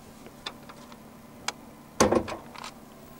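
Hood release and latch on a 2014 Ford Mustang V6 being popped open: a few faint clicks, then a louder metallic clunk followed by short rattling, close by with no talk.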